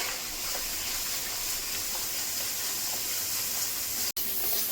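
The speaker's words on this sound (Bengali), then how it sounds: "জিরে বেটে নিয়েছি, 2 চামচ মতো দিয়ে দিলাম। হলুদ দিচ্ছি, কাশ্মীরি লঙ্কার গুঁড়ো, আর কিছুক্ষণ ভেজে নেব" Cumin paste, turmeric and Kashmiri chili powder frying in oil for a village-style Bengali fish curry, a steady loud hiss and sizzle that holds without a break, cut only by a tiny click near the end.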